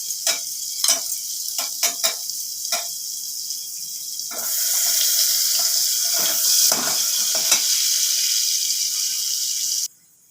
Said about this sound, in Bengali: আমি প্রথমে বাটারটা দিয়ে দিচ্ছি। এবারে দিয়ে দিচ্ছি রসুন কুচি।